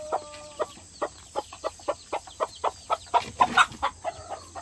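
A native Korean hen clucks in a coop where eggs are set for brooding, a regular series of about fifteen short clucks, close and clear, with a faint low hum behind.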